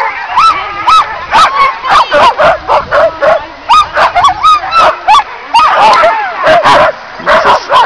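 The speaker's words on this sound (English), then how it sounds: "this is Bishop Burns about to take his dog sled ride" A team of sled dogs barks, yips and whines excitedly in rapid, overlapping bursts, loud and close, before a dog sled ride sets off.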